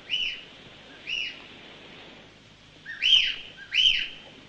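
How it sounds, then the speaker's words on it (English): An owl calls at night in a quiet setting: four short, clear whistled notes, two spaced apart and then a louder pair close together, standing out over faint background noise. "Do you hear that owl?"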